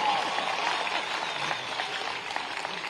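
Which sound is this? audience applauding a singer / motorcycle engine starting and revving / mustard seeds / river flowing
audience applauding a singer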